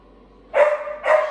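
A dog gives two short, sharp barks close by, one after the other.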